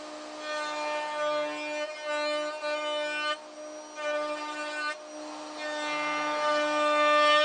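A router fitted with a 3/8 inch roundover bit cuts a bullnose profile along a wooden edge, a loud steady whine with strong harmonics that briefly drops in pitch twice as it bites, then runs on alone.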